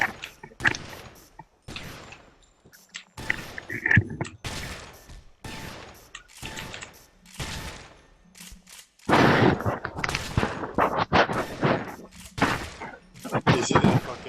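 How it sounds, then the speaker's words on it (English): Rapid explosive blasts and thuds from rocket launcher fire in the shooter game Loadout, coming in irregular loud bursts separated by brief gaps, with a chaotic cluster of hits near the end. "rocket launcher."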